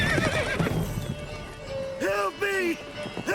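Roach, the horse in the video game The Witcher 3: Wild Hunt, gives a loud whinny near the end amid hoofbeats and game noise, with a person talking over the first part.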